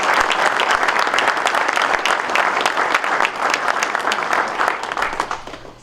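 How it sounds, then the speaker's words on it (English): A meeting audience claps in a sustained, loud round of applause, dense and even throughout, easing slightly toward the end without any talk over it. "Let's give them another round of applause."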